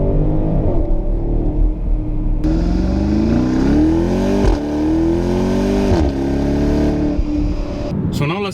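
A 2019 BMW X5 50i M Sport with a 4.4L V8, driven in Eco Pro mode, gives off a low, continuous engine hum whose pitch climbs and falls through shifts under acceleration, with road and cabin noise throughout.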